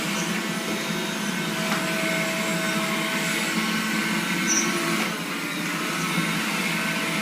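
An iRobot Scooba 230 floor-cleaning robot runs on a tiled floor with a steady, fairly quiet whirring hum that holds evenly throughout, with no talking over it.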